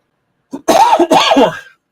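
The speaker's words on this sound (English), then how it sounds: "still coughing, unfortunately, but not as bad" A short, close bout of coughing: a small throat catch followed by two harsh, voiced coughs in quick succession.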